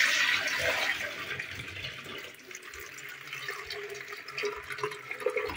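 Water brought from a village is poured out, a continuous gushing and splashing stream, loudest at the start then settling into steadier trickling and slosh, close by with no talking.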